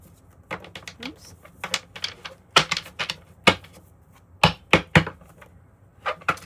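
Crisp, irregular clicks and riffling snaps of tarot cards being shuffled close by, coming in short bursts with brief pauses between.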